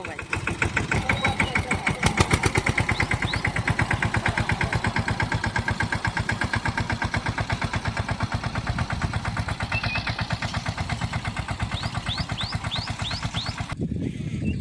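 A tractor engine runs steadily with a fast, even diesel throb, loud and close throughout, with a few faint chirps at times.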